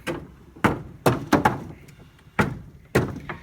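A series of sharp wooden knocks and thunks, about seven in irregular rhythm, like a small door on an antique wooden cabinet being shut and opened repeatedly nearby.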